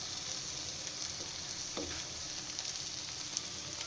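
Paneer pieces fry in a pan with a soft, continuous sizzle, quiet and close, with a brief scrape of stirring midway and no voices.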